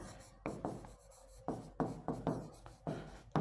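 Writing on a classroom board during a reasoning lesson: a series of distinct, close strokes with soft scraping, coming in irregular bursts with brief pauses between, quiet overall and without talk.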